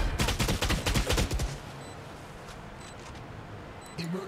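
Rapid burst of video game gunfire, loud and close, with sharp repeated shots in the first second and a half, then a lingering rumbling tail and a faint click near the end.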